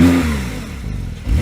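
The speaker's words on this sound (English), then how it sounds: "So, Lewis, give it some revs." A stationary Porsche 911 Turbo S revs in a car park, a loud deep engine note that swells then dips briefly before rising again near the end.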